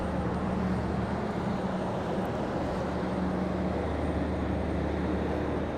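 A Southwest Boeing 737-700 taxiing to the gate at Charlotte airport hums with a low, steady engine drone and tonal whine, moderately quiet and unbroken.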